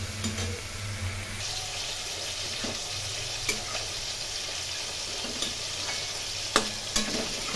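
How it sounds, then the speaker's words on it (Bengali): Cabbage being stirred while frying in a pan on low flame, giving a soft, steady sizzle punctuated by a few sharp spatula scrapes and taps, up close with no talk. "এই সময় লো ফ্লেমে নেড়ে নেড়ে রান্না করতে হবে।"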